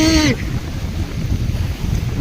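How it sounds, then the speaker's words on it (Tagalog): Strong wind by the sea at Capaluhan buffets the microphone in loud, rumbling gusts throughout, following a brief voice at the very start. "Sobrang lakas ng hangin."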